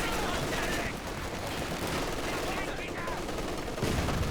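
Machine gun fire in a Company of Heroes 2 3v3 battle near a station, dense continuous rattling bursts mixed with other battle noise, loud and sustained throughout.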